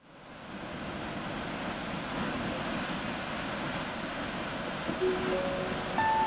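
Steady broadband roar of rushing water, constant and moderately loud, like a waterfall heard from nearby, with a faint tone near the end.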